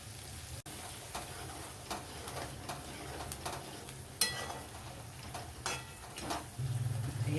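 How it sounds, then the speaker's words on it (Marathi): A bowl of curd goes into a hot pan and is stirred, bringing a steady sizzle with repeated scraping spoon strokes and light clinks, close and continuous, with no voices. "आता हे दही घालते 1 वाटी"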